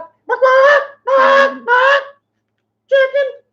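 A man imitates a chicken, letting out four loud, nasal honking clucks in two quick pairs with a pause between them, his voice doing the animal sound.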